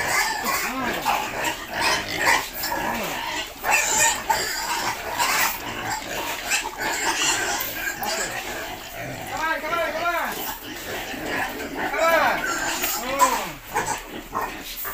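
Pigs on a farm squeal and grunt continuously and loudly, with dog-like yips mixed in, a busy, dense clamor lasting throughout before feeding.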